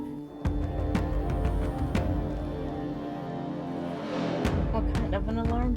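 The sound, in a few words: alarm horn sound effect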